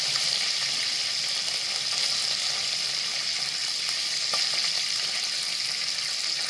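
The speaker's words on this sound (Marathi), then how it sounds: "त्याच्यामध्ये जिरे टाकते अर्धा चमचा मोहरी टाकते अर्धा चमचा लसूण टाकते दहा बारा पाकळ्या" Cumin, mustard seeds and garlic cloves sizzling in hot oil, a loud, steady, hissing fry that runs unbroken throughout with no talking.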